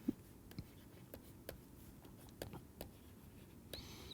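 Faint pen or chalk writing during a math lecture on basis and dimension: a string of light, irregular taps and short strokes, soft and sparse against a quiet room.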